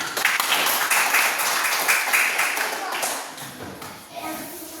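Schoolchildren clap their hands together in a classroom, a dense patter of many quick overlapping claps that runs loud and steady before tapering off near the end, with children's voices mixed in.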